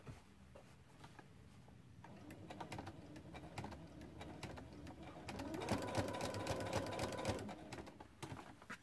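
Up close, a sewing machine stitches appliqué onto a quilt, rapid mechanical stitching that comes in bursts, pauses briefly, then runs louder and faster near the end.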